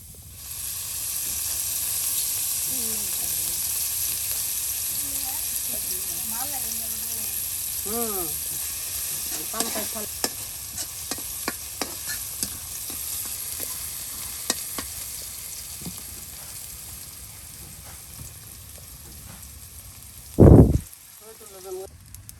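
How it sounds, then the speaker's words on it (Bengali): Onion and garlic fry in a generous amount of oil for a fish curry, giving a steady close sizzle with occasional stirring scrapes and a loud clatter near the end, while a person talks over it. "দেখুন কত তেল দিয়ে দেওয়া হলো, একদম পেঁয়াজ রসুন ভাজা ভাজা করে নেওয়া হবে"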